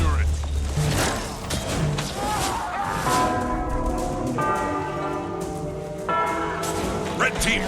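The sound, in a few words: bell ringing in the video game Guild Wars 2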